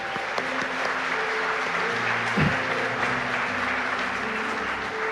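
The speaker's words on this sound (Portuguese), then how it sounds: "Vamos dar uma salva de palmas a Jesus, irmão." Church congregation at a family worship service applauding for Jesus, a steady, loud mass of clapping with faint tones and murmuring beneath.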